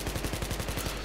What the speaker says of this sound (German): Geil, ein MG mit 100 Schuss.